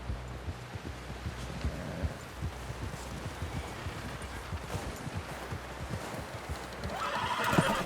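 Horse hooves clopping in a steady rhythm over low rumbling, with a horse whinnying toward the end, fairly close, from the video game Red Dead Redemption 2.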